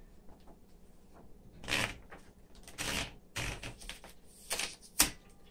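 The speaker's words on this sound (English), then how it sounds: "It's fully electric, electric return, electric power, and this is the typing demo for it." A 1961 Smith Corona Model 200 electric typewriter typing, with several separated bursts of key strikes and mechanical clatter spaced across the clip, ending in one sharp loud strike, close up with no talking.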